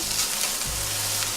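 Garlic frying in a pan for a coconut curry shrimp dish, giving a steady close sizzle with a low thump partway through, no voices.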